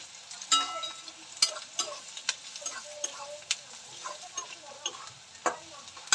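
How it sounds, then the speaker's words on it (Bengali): Kashmiri red chili powder and turmeric frying in a pan for a spicy chicken dish, with a soft sizzle under a series of sharp spatula taps and scrapes at an irregular rhythm. "একটু কাশ্মীরি রেড চিলি পাউডার একটু সামান্য হলুদ এটাকে ভালো করে ভেজে নেবো"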